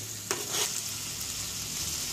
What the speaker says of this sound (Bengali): তার মশলাটা 2 থেকে 3 মিনিট ভালোভাবে কষিয়ে নিতে হবে।